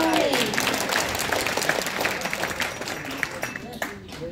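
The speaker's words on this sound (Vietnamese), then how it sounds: "vỗ tay." Applause from guests at a 50th anniversary gathering, many hands clapping in a dense, lively stream, with a voice speaking over the start and the clapping thinning toward the end.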